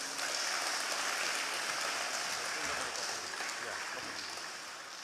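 A town hall meeting audience claps in a broad, steady wash of applause that slowly fades toward the end, moderately distant.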